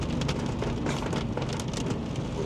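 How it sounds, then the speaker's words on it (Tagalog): Heavy rain pouring continuously without wind, a dense, steady hiss of drops on surfaces with no pauses, loud and close throughout. "ang lakas ng ulan, malakas yung ulan, hindi siya mahangin pero malakas"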